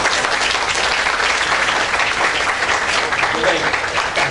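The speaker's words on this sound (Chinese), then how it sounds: "那这边我们要先再次借助大家的掌声哦，先谢谢我们的老板今天担任我们的证婚人" Wedding guests at a ceremony clap together in a dense, steady round of applause that stays loud and even from start to finish, with no break in the sound.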